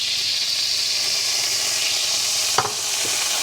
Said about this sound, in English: Just keep it frying there, and that's to stir fry it off.